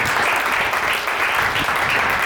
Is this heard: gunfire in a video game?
no